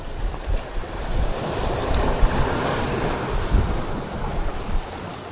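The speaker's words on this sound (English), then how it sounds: "The wind is really picking up too." Steady wind and breaking waves on open water from a fishing boat, a continuous loud rush of surf with gusty wind buffeting the microphone throughout.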